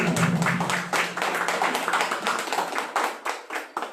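An outdoor political gathering in Manchay, Peru, breaks into applause: a burst of clapping with some individually distinct claps, tapering as it goes on, with a low voice briefly audible at the start.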